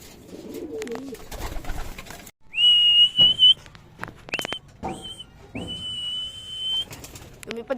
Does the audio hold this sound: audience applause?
no